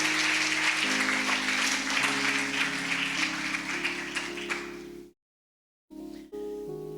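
A church congregation claps steadily for several seconds over a sustained musical backdrop, then it cuts to a brief silence before the music resumes.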